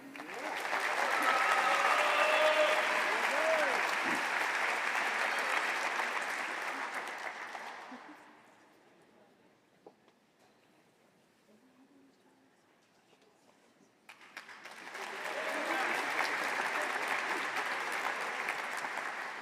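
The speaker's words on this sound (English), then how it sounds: "feel free to applaud for every person." Crowd applause at a physical therapy white coat ceremony: a long round of clapping fades out, a quieter gap follows, then a second burst of applause rises again and continues.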